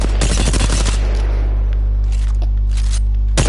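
Gunfire from the shooter game Apex Legends rings out in loud rapid bursts at the start, then scattered single shots and a final burst, all over a constant low hum.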